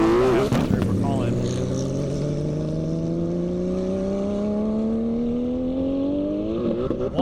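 Porsche Turbo accelerating hard down an airstrip during a top-speed event, a loud sustained engine note climbing steadily in pitch through the gears, close and dominant with an announcer talking over it.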